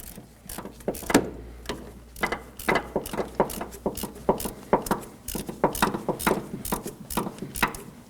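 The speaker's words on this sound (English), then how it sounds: "I'm going to take my ratchet and finish removing it." A hand ratchet spins out the accessory drive belt tensioner bolt on a 2013-2019 Nissan Sentra 1.8L four-cylinder, giving a close, steady run of sharp clicking bursts with brief pauses between strokes.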